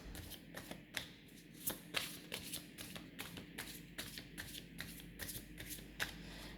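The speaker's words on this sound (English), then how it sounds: "First I'm going to clear the cards." Tarot cards are shuffled by hand in a steady run of quick, crisp riffling flutters and soft taps, close up and fairly quiet, with no talking.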